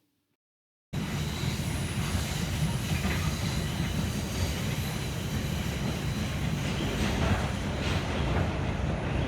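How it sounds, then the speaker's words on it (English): A New York City subway train roars steadily along an elevated IRT line in the Bronx, a loud continuous rumble with rattling wheels and faint hiss, starting suddenly after a brief silence. "we finish up the rest of the stations on this elevated line as our train heads south"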